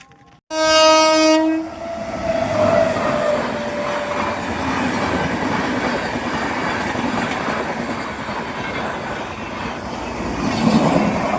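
A train passing a railway crossing opens with a loud, sustained horn blast, then rolls by with a steady, close rumble and clatter of wagons that continues to the end.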